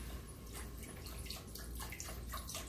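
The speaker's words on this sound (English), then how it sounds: "I'm going to put in, now that the wine is reduced a little bit of beef stock" Beef stock pours and sizzles into a pan of reduced wine, a steady close-up bubbling and splashing rush throughout.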